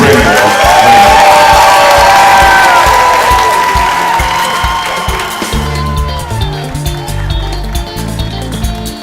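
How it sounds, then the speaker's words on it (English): Loud crowd noise with cheering and clapping from an audience at an awards dinner, sustained throughout and easing slightly toward the end. "Everyone, please give a warm round of applause for Brenda."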